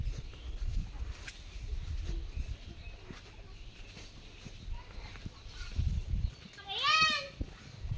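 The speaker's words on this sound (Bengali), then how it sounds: "ছাগলগুলো দেখেন" Goats at a rural home, with one clear wavering bleat near the end rising over low rustling and background murmur, plus a few faint knocks earlier.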